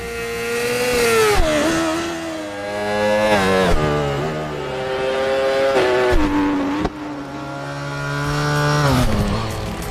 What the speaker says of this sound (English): Real enthusiasts can guess a bike by its sound even before seeing it.